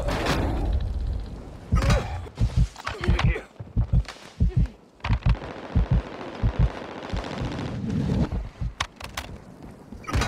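Rapid bursts of MAC-10 submachine gun fire in the mobile shooter Warzone Mobile, loud and close with short pauses between bursts, mixed with game sounds and a voice talking over it.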